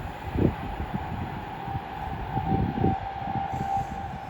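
A Class 390 electric train passes through Watford Junction on the West Coast Main Line, heading for Liverpool, with a steady rumbling roar, rhythmic wheel thumps over rail joints and a faint high whine, close by throughout.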